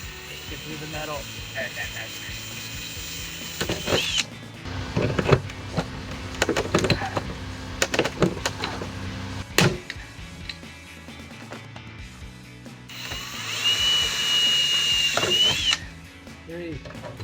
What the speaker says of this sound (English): careful you don't drill through. Get through the metal.